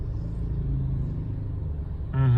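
A neglected Nissan work car drives with a low, steady engine rumble and road noise from inside the cabin, the rumble growing louder and tonal near the end.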